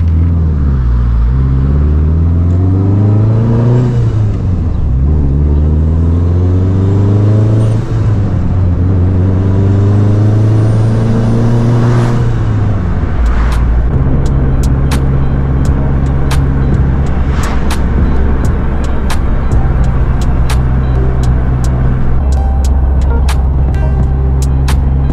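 A modified all-wheel-drive Honda Civic Type R accelerates hard through several gear shifts, its engine pitch repeatedly climbing and dropping. It then settles into a steady cruising drone with clicks and knocks, loud and close from inside the car.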